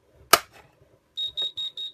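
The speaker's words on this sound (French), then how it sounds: "zone 1 et alarme qui est partie." A sharp click, then a shrill electronic fire alarm beeping in five quick, even pulses during a Type 4 alarm test, loud and close, with no talking.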